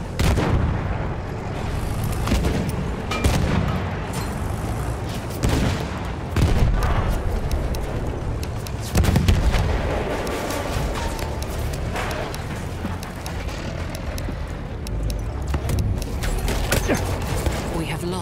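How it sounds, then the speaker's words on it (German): Battlefield 1 combat with dense rifle and machine-gun fire, heavy artillery booms and explosions, near and far, a constant loud barrage with voices shouting and talking over it. "We're getting shot at, man."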